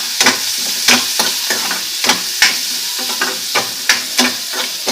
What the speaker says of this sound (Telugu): డ్రై ఫ్రూట్స్ వేగిపోయాయి